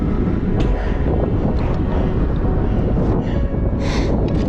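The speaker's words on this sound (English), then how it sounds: "It's windy." Strong wind roars steadily across an exposed summit of Leavitt Peak in the High Sierra, a loud, constant rumble buffeting the microphone with gusty swells and no voices.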